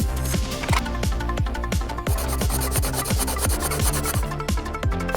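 An aluminum can is rubbed in a fast, steady back-and-forth rasping rhythm as its top is skimmed off, close and continuous for several seconds with no talk.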